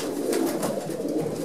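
Pigeons cooing in a breeding aviary, soft repeated throaty coos layered over one another, close and continuous for a moment.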